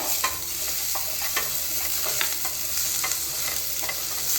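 Onion and curry leaves sautéing in a pan for pachai mochai kootu, a steady sizzle with repeated spoon scrapes and stirs at a close, even level, no talking.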